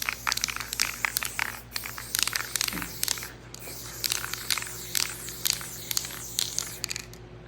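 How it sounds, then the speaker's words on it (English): Bursts of aerosol spray paint hissing over collage pieces, a run of short broadband sprays with brief gaps between them, close and fairly loud, no talking. "I'm just gonna spray paint these."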